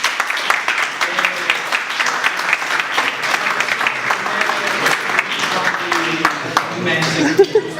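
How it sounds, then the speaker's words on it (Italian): Sustained audience applause fills the space, many people clapping steadily and fairly close, with some scattered voices rising near the end. "io vorrei fare un applauso visto che siamo qua"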